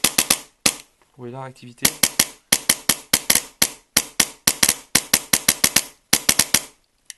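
Polarstar airsoft replica firing in closed bolt mode, giving sharp, crisp shots in quick short bursts and singles with brief gaps between them; someone speaks briefly near the start.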